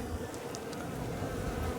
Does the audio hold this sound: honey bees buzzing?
yes